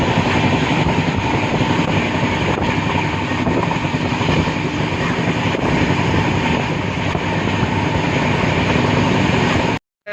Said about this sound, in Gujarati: અહીંથી મળશે અમને સાબરમતી સુધીની ટ્રેન